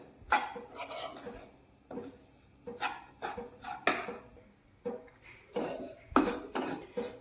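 A spoon stirs semolina and peas as they roast in a pan, giving a steady run of close scraping and clinking strokes against the metal, repeated every half second or so without talk.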